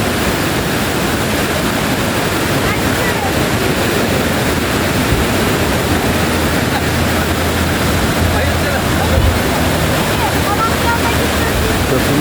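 Loud, steady roar of the Fırtına river in Rize, Turkey, a rafting mountain stream, churning whitewater filling the whole stretch without letting up.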